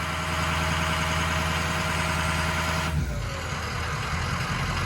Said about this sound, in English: It's going to bump it right into a high idle.